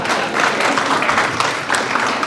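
An audience at a Black Suffrage Network event claps continuously, a dense, fairly loud wash of many hands with no break, heard close and without talk over it.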